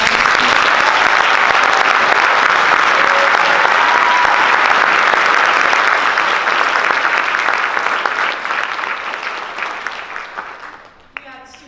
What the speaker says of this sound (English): So give them all a round of applause